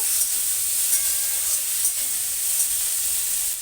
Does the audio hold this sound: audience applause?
no